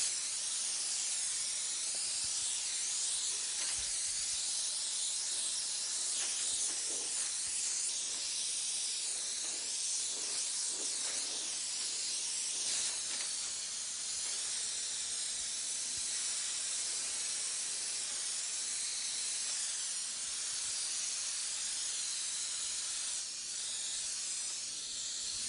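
Spray gun applying pearl paint to a vehicle, giving a steady close hiss of compressed air and atomised paint that runs almost unbroken, with slight shifts as the pressure and passes change.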